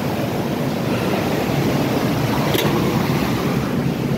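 Hot spring water flows steadily at a sanatorium spring, a continuous broadband rushing that stays even and close throughout, with no voices.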